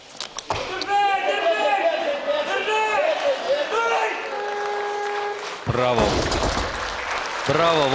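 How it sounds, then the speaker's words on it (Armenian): A hall audience applauds at the 2016 European Weightlifting Championship, cheering Armenian lifter Nazik Avdalyan after two failed attempts. The clapping and crowd noise stay dense and sustained, with a commentator talking over them. "ծափահարություններ մարտական կամքի"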